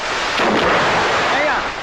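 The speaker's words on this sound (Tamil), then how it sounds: "இப்ப வெடி வெடிச்சது அந்த சத்தம் கேட்கலையான்னு கேட்டேன்" A firecracker going off, a loud booming blast that rolls into a continuous rumble for under two seconds.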